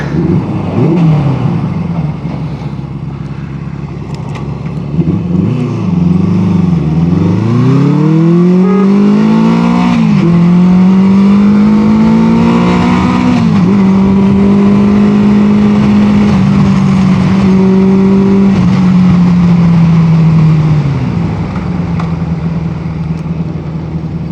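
A 1973 Honda CB350 Four motorcycle engine idles steadily up close, its four-cylinder note dipping and rising with a few small throttle blips before settling into an even, continuous idle.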